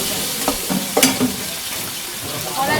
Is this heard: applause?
no